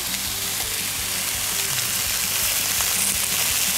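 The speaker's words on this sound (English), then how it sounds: "While the sausage is cooking" Sausage frying in a pan gives a steady, close sizzle and crackle with faint scraping of the pan underneath, and no talk.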